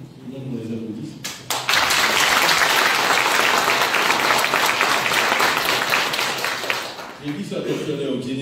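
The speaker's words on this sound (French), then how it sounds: "Tout le monde les applaudisse" Loud audience applause erupts in a Paris hall at a diaspora gathering, a dense wash of clapping that swells quickly after a brief voice, holds for several seconds, then gives way to speech again.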